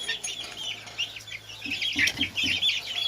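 Chicks clucking softly in short bursts close by, with constant high chirping from birds or insects in the background.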